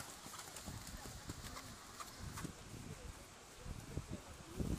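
Horses trotting together in a dressage arena at an E-level tournament, rhythmic hoof clip-clop on the arena footing, moderately near, with a faint whinny and a voice calling commands over it.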